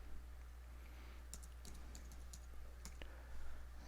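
Someone types a password on a computer keyboard: a short burst of light, irregular key clicks over a low steady hum, fairly faint and close, with no talking.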